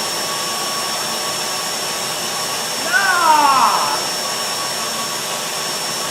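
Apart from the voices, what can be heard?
noisy vacuum cleaner running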